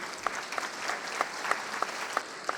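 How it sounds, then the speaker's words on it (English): An audience at a State of the City address gives a round of applause for the fire marshal's staff. The clapping is moderate and steady, with a regular rhythmic clap standing out in the crowd. "how about a round of applause for mostly fire marshal staff works on that, right?"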